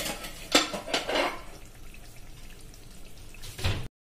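Cooked cream chilli sabji is served from a pan into a bowl: soft metallic clinks and a wet scrape of a ladle, clustered at the start and again near the end, fairly faint.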